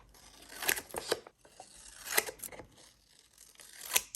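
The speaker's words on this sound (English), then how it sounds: "Then I'm going to cut the corners, leaving a little bit of space, about that much." Several crisp snips and short tearing crunches come up close as the corners of a journal cover are cut off, spaced irregularly with quiet gaps between. No one speaks.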